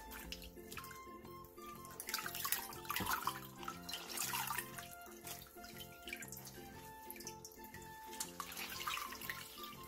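Cold tap water running steadily into a sink as blanched lettuce is rinsed, a continuous rushing splash with faint clinks, heard quietly under soft background music.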